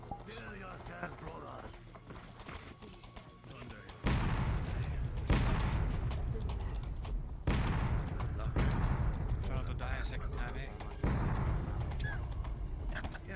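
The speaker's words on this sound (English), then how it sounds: "Constant sound of cannon fire pierces through." Cannon fire booms out in a series of heavy, irregular blasts, each leaving a long rolling rumble over a constant low roar.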